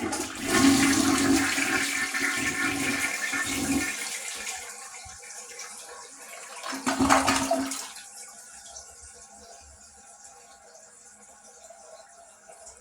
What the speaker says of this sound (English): The flushing just got even weaker.